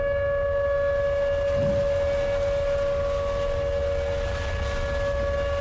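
A civil defense tornado siren in the Roblox game Tornado: Research and Rescue drones steadily, a loud, sustained, even-pitched wail that holds without a break under faint wind.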